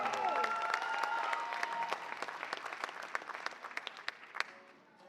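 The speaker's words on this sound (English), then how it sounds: "Please give a round of applause to Kumuhula Troy, Allen Hinano Lazaro." Audience applause at a Hawaiian cultural event, many hands clapping in a steady patter that gradually thins into scattered individual claps and dies away, with a short sung or spoken voice early on.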